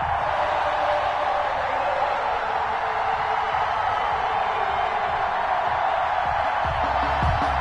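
An NFL stadium crowd before a Chiefs versus Carolina Panthers game keeps up a steady, distant roar of cheering that stays even throughout, with a few low thumps near the end.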